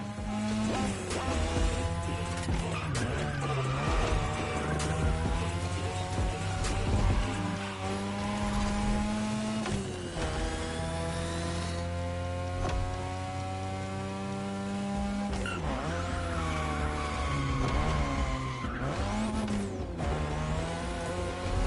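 A 2002 third-generation Mazda RX-7 with a rotary engine drifts in a video game, its engine holding a high, wavering whine with shifting pitch and long tire squeals, loud and continuous with no pauses or talking.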